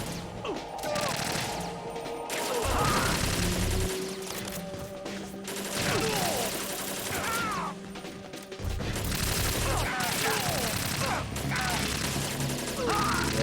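Rapid bursts of AK rifle gunfire in a video game, several volleys separated by short gaps, loud and cracking over game noise and clanks.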